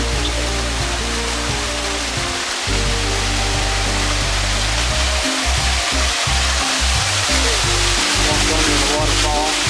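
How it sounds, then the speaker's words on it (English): A waterfall in the Florida Keys roars as a loud, dense and constant rush of water up close, steady for the whole stretch. "Walked under the waterfall."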